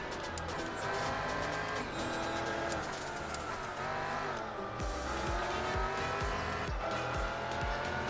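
An RX-7 and an NSX race in Gran Turismo 4, engines droning loudly and continuously with shifting pitch as the revs rise and fall, with tire squeal and skidding mixed in.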